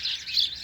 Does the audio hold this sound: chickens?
no